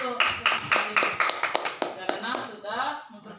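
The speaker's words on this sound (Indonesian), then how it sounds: "Ya, tepuk tangan dulu" Primary school pupils clap hands together in a classroom, a short run of quick, uneven claps that fades out as a voice talks over the end.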